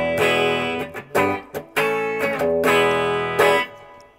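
Electric guitar through a RoShi Pedals GRUFF fuzz pedal, a Big Muff recreation, into a Twin Reverb amp, plays several sustained chords and short bursts with thick distortion, loud and close, with brief pauses between.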